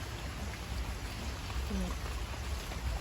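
Steady rain falls throughout, a dense, continuous hiss of drops on surfaces with no pauses.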